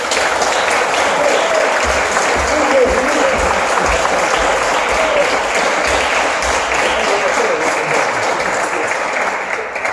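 A concert audience applauds a bandoneonist at a tango performance in the Usina del Arte, a dense, steady roar of many hands clapping that holds evenly for the whole stretch.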